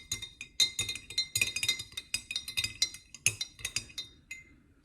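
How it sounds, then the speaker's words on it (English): A utensil stirs 100 mL of hydrogen peroxide solution in a glass vessel, producing a rhythmic series of bright, close clinks and taps against the glass. "We're gonna go ahead and give that a stir."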